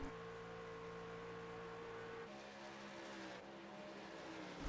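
In a NASCAR racing video game at Las Vegas, race truck engines drone steadily, with the pitch shifting midway as they accelerate, fairly quiet and continuous.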